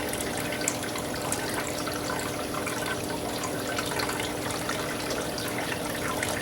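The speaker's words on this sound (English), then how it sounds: "Pour out as much of the water as we can." Water from a tropical fish shipping bag pours out in a continuous, even gush that runs the whole time with no talking.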